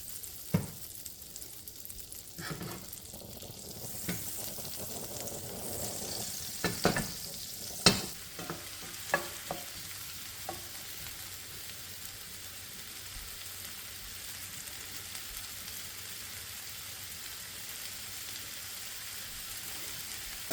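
Butter and a dash of oil sizzle in a frying pan for a beef bourguignon stew, a steady soft crackle running throughout, with a few sharper clicks and scrapes early on and no talking.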